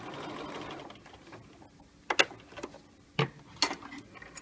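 A sewing machine backstitches a seam on a small Peter Pan collar, with a soft, steady run at first, then a few sharp separate ticks and clicks as the stitching reverses and stops.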